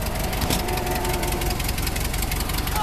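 A Ford Model T engine runs close by, a loud, steady mechanical chugging with a knocking rhythm and constant vibration, and no talk over it.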